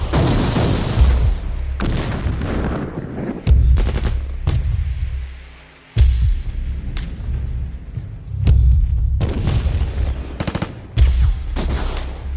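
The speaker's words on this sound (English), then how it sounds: "Some artillery" Heavy gunfire and booming artillery at a military bunker position pound in long, loud volleys of rapid reports, broken by brief pauses, one fading rumble and renewed bursts, with no voices.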